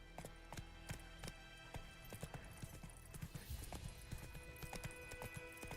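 Rhythmic clip-clop of a horse galloping across ground in The Witcher 3, hoof beats steady and fairly close, with faint game sounds underneath and no clear talk.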